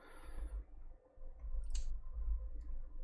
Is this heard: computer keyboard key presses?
yes